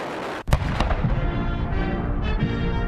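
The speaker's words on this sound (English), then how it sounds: "Cannons fired off a 21-gun salute as Hail to the Chief played." Cannons fire a 21-gun salute: a sharp, loud boom cracks out, followed by a lingering rumble and echoing reports fading into the distance.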